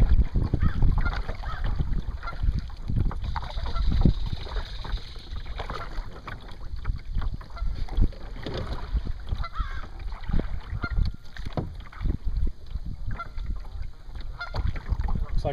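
Geese honk repeatedly from a distance over water and take off, with kayak paddling and boat noise close by.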